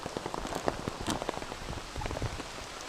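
Steady rain patters on a hiking trail on Stratton Mountain along the Appalachian Trail, with dense, close drops landing continuously and a few sharper splats standing out, no voices.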